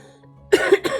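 A single harsh cough from a cancer patient in two quick bursts, close and loud after a brief quiet moment.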